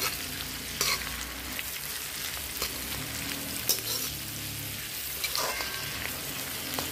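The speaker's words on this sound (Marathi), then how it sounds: "पत्ताकोबी, शिमला मिरची टाकते. सगळ्या भाज्या मिक्स करून घ्यायचं चांगलं." Sliced cabbage and capsicum are stir-fried together in a large catering pan, with a steady sizzle broken by several sharp scrapes and clanks of the spatula, close and alone without talk.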